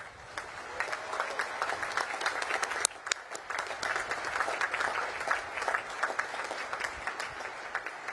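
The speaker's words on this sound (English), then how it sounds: "please join me in giving them a heartfelt round of applause" An audience at a Naval Academy graduation ceremony applauds with sustained, dense clapping that holds steady throughout, with a faint murmur of voices beneath the broad wash of hands.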